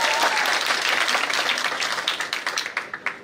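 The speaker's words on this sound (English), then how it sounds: "But round of applause for Maisie as well." An audience claps for dancers at a live show, a dense sustained round of applause that slowly thins out toward the end as individual claps grow distinct.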